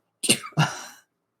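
A single close sneeze in two quick parts, a sharp intake burst then a longer explosive release, followed by silence.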